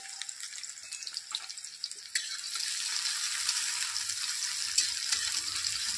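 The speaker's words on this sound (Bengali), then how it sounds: "এটা আমি আস্তে আস্তে ভেজে নেব" Sliced onions fry slowly in hot oil in a pan for birista, a steady close sizzle that grows fuller after a brief stir, with no talking.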